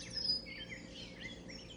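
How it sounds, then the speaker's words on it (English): Birds singing at sunrise around a solar observatory, including rose-breasted grosbeak, wrens, titmice and robins, with overlapping chirps and trills at moderate distance over a soft outdoor background hum. "One of my favorite things as the sun comes up here at the observatory is all the birds we have out here just singing away."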